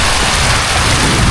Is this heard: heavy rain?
yes